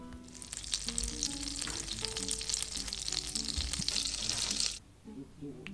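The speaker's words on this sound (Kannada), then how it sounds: "ಈಗ ಒಂದು ಪ್ಯಾನ್ ಒಳಗೆ ಎಣ್ಣೆ ಹಾಕ್ಕೊಳಿಕತ್ತೀನಿ ಜೊತೆಗೆ ಸ್ವಲ್ಪ ಬಟರ್ ಹಾಕ್ಕೊಳಿಕತ್ತೀನಿ ಸ್ವಲ್ಪ ಜೀರಿಗೆ ಹಾಕ್ಕೊಳಿಕತ್ತೀನಿ" Cumin seeds sizzle and crackle in hot oil and butter in a pan, a dense, continuous frying hiss with scattered pops that cuts off abruptly near the end, leaving a quiet background.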